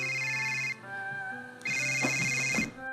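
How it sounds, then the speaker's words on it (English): A phone rings in the horror movie Creep, two electronic ringtone bursts separated by a brief quiet gap, clear and close. "Aaron answers the phone"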